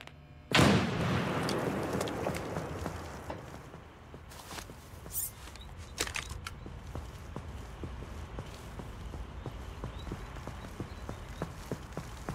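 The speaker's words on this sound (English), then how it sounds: "Tossing frag." America's Army game audio: a frag grenade bursts loudly and sharply, then a steady stream of gunshots crackles on as rapid distinct reports of moderate loudness.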